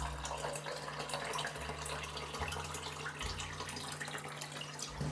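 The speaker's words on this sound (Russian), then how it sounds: "заливаю ее чистой водой" A continuous, even rush of clean water pours into a pot of pearl barley, steady and moderately close, with no voices.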